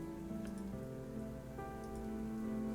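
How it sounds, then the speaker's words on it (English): Steady patter of rain against a small tent in a video game, a constant soft hiss beneath low sustained background music, with no talking. "We just lay back, listening to the patter of rain against our little tent."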